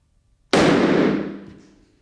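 A shotgun firing an SG round of nine heavy balls, one loud close blast after silence, with a long ringing decay fading over about a second and a half.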